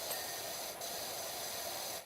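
Steady high-pressure water spray from a power washer in Power Wash Simulator, a continuous broadband hiss held at even loudness throughout with no breaks.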